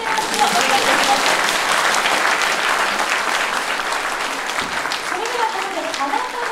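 Sustained, loud applause from an audience at a Japanese community event, following a school brass band's encore performance, a dense steady clapping that fills the whole stretch with a few faint voices mixed in.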